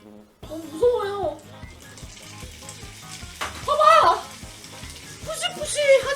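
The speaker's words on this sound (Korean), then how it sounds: "이제 돼지고기를 프라이팬 안에다가 넣어주세요." Pork hits a hot frying pan in a home kitchen while making omurice, giving a steady close sizzle with stirring clatter, under frequent loud chatter from an adult and a child.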